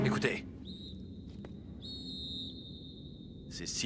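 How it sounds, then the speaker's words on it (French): High, steady whistles sound in a radio drama: a faint one, then a longer sustained tone with a brief sharp break between them, set against a quiet background with bursts of other sound at either end. "Écoutez. Ces sifflements ne me disent rien qui vaille."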